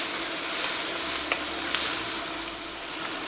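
Ground beef for a hamburger stew sizzles steadily in a pan over medium heat, a close, constant hiss with a couple of faint clicks of a utensil and no voices.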